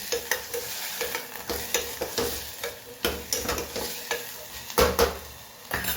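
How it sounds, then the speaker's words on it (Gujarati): Bhajiya batter with potato being mixed in a bowl, giving repeated rhythmic scraping and slapping stirs at close range, several strokes per second, with no voices. "સરસ મિક્સ કરી દઈએ જરા."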